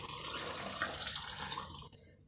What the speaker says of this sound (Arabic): الماء البنات حتى يتغطى لكم الزيتون ديالكم